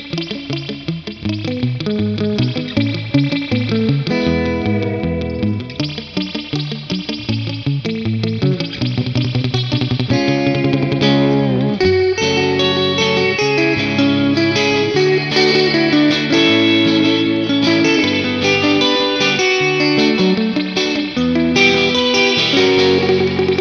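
Two surf guitars run through a spring reverb unit, a wetter solo line over a drier rhythm part, play continuously and loudly with dense drippy echo and no talking.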